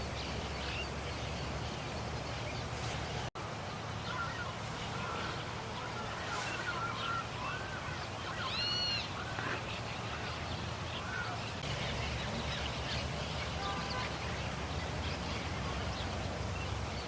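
Birds calling around a lagoon with flooded grass and reeds in the countryside, scattered caws and calls rising over a soft constant outdoor hiss, fairly distant and faint, with one sharp click early on.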